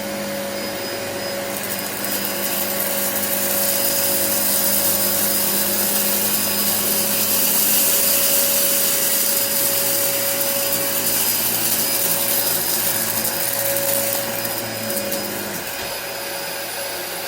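A Dyson DC27 upright vacuum cleaner runs on plush carpet with a loud, continuous motor whine and brush-roll rumble, its pitch shifting slightly as it is pushed back and forth, close by.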